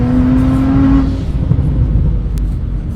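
Methanol-fuelled BMW M135i built toward 700 hp, still fitted with two silencers, revs loud and close: a steady high engine drone holds for about a second, then drops into a rougher, lower rumble that carries on to the end.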